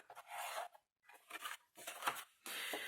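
Scissors cutting paper in a quiet room, several short close snipping and rustling bursts separated by brief silences, faint overall.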